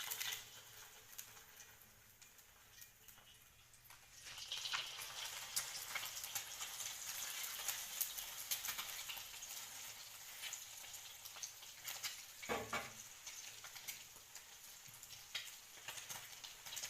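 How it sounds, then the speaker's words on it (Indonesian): An egg frying in a hot wok for spicy-sweet fried rice, sizzling steadily and close by, the hiss rising as it is flipped and a brief scrape of the spatula cutting through near the end, with no voices. "Kemudian balikkan telur yang ada di dalam wajan tersebut agar masaknya hingga merata."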